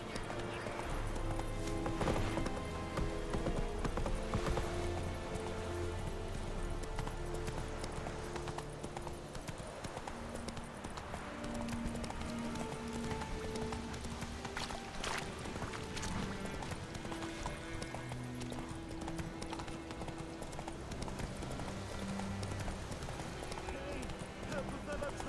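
Roach, the horse in The Witcher 3: Wild Hunt Complete Edition, gallops with a steady clip-clop of hooves running through the whole stretch, set against constant game music and voices talking.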